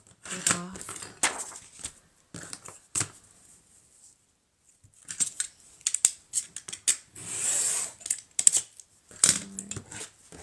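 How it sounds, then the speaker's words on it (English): Scissors snip paper for a junk journal cover, with crisp close cuts in scattered bursts amid paper rustling and handling, interrupted by quiet pauses and some talk. "I think I'll cut that little bit off."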